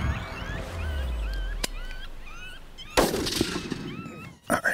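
Shotgun blasts while hunting in Kansas timber, a sharp crack early on and a louder, close blast about midway, with birds chirping through the background and a brief jolt near the end.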